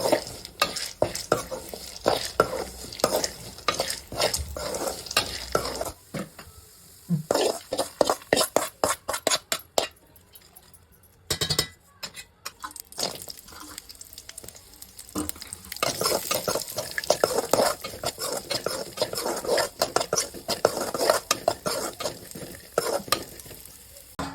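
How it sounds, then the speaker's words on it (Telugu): Chana dal roasts in a pan as a utensil stirs it, giving rapid scraping and rattling strokes over a faint sizzle, with a brief lull midway before the busy stirring resumes, close and without talk. "శనగపప్పు కూడా అదే నీటిలో కొంచెం రోస్ట్ చేసేయండి."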